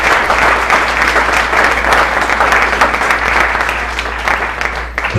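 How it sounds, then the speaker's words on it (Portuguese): A church congregation claps together in worship, a loud, dense, sustained wash of applause from a crowd that holds steady and tapers slightly at the end. "Vamos aplaudir o Senhor, porque Ele está aqui nesse lugar."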